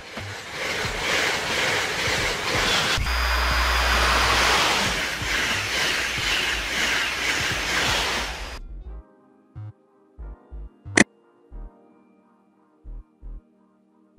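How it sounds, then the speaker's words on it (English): An electric locomotive rumbles along the rails with a loud, steady roar for several seconds, then cuts off to near quiet broken by a few short, sharp thuds and a single high squeal. "Electric locomotive, a train engine powered by electricity, utilizing either overhead wires or third rails for power supply."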